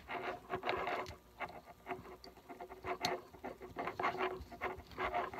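Metal prongs are screwed into an invisible fence dog collar, making quiet, uneven clicking and scraping bursts that come and go with small pauses, and no one speaks.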